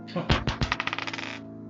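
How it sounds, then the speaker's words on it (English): A weather die rolled on a tabletop during a tabletop roleplaying session, a few heavy clacks followed by a fast rattling series of small bounces that quicken and fade out, close and alone. "I have this weather dice, so I'm gonna go ahead and roll it right now."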